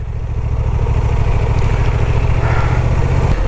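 Honda Transalp 750 motorcycle on off-road terrain, its engine droning loudly and steadily up close with a rough mid-range roar that swells slightly as it accelerates, no talk over it.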